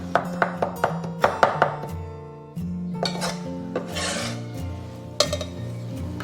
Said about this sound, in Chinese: 稍微把它水分给它捏干，再用刀把它剁细一点